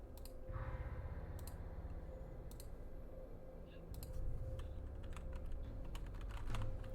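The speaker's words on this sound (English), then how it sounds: "I hear clicking and I don't like it. I think that was me. I was just typing to look for this up." Someone types on a computer keyboard, a steady run of quiet, rapid key clicks under a low background hum, with sharper taps scattered throughout.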